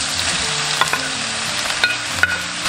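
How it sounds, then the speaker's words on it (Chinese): Side vegetables, including zucchini and king oyster mushrooms, stir-fried in a wok: a steady sizzle under sharp scraping and clanking of the spatula against the pan, several distinct strikes close up, with no talking. "把这些配菜全部炒一下"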